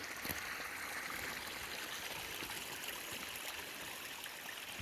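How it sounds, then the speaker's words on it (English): Water overflowing from a full pond runs toward a levee in a continuous, even stream-like rush, moderately quiet and steady with no voices. "Obviously the pond is still full, and right now it is overflowing."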